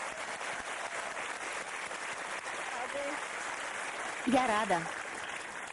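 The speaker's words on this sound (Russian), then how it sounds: "Аплодисменты!" Studio audience applause on a televised quiz show, a steady wash of clapping running the whole time, with a woman's brief spoken line rising over it near the end.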